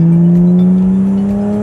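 A modified BMW E36 M3 pulls hard from second gear, its engine note loud and close with a steady rising drone and no talk over it.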